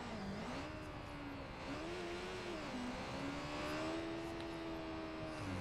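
Car engine in the video game Watch Dogs 2, a moderately quiet continuous drone whose pitch rises and falls with throttle and gear changes, heard alone without talk.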